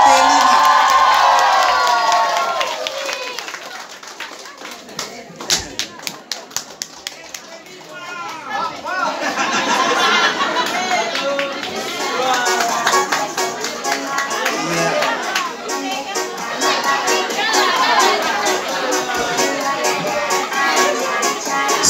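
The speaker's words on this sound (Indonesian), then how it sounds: "Sekali lagi kita berikan aplaus yang meriah." A crowd of children and adults cheers, whoops and shouts at a village youth volleyball prize ceremony, starting loud, dipping briefly, then swelling again into lively, sustained excited noise with speech mixed in.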